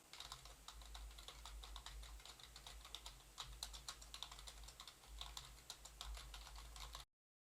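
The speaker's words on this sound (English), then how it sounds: "see how well this microphone picks up or reduces the sound of a silent keyboard being typed on under it" Soft, rapid keystrokes on a silent computer keyboard typed just beneath a TONOR UHF wireless karaoke microphone, a steady patter of muted clicks over a low constant hum that stops abruptly near the end.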